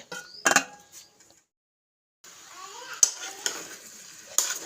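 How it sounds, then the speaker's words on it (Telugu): A utensil stirs bottle gourd pieces in a curry pot with a few short scraping clinks, then a pause, then softer clattering and faint sizzling, all close and fairly quiet. "సొరకాయ ముక్కలన్నీ వేసినా మొత్తం కలిపేయాలిగా"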